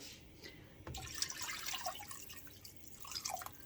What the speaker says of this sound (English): But we want to cover it good with water.